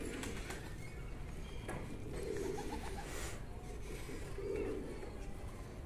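Pigeon cooing softly against steady background noise, with a couple of brief low coos near the middle and end, fairly faint and distant; a rescued stray pigeon, with faint talk around.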